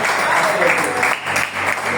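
A church congregation breaks into applause, a loud, steady wash of many hands clapping together, with a voice faintly mixed in.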